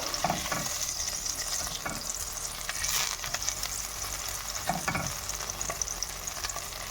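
Butter sizzling in a heated frying pan while preparing beef and chicken tripe soup, a steady moderate frying hiss broken by several scraping bursts, close by with no voices.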